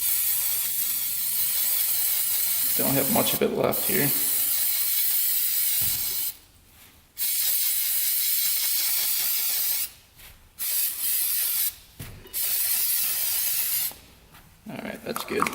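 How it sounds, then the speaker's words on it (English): Several short bursts of K&N filter oil aerosol spraying onto a Honda 400EX air filter hiss close by, separated by pauses, with someone speaking briefly between sprays. "Got a little K&N filter oil. Just gonna spray that."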